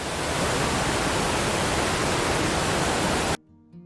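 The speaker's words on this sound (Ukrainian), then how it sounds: "водоспад." A steady, dense rush of falling water roars loudly and evenly for several seconds, then cuts off abruptly near the end.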